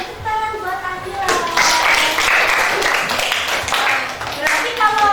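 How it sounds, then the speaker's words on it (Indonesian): A class of children claps for a classmate named Akila, a burst of brisk, fairly loud applause that starts after a voice holds a tone and carries on with children's voices mixed in. "Tepuk tangan buat Akila."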